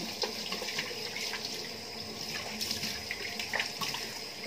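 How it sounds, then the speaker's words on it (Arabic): Cold tap water runs steadily into a sink during a skincare routine, a continuous close splashing rush with no voices. "دوكا ناخذ الماء البارد"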